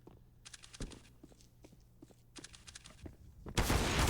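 Gunfire and footsteps in a Counter-Strike: Global Offensive match on Mirage, with two bursts of rapid shots separated by softer steps and clicks, then a loud dense wash of noise at the end.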